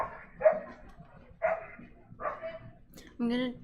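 Dogs in a house bark in four distinct, evenly spaced bursts, fairly close and clear, the last one longer and more drawn out.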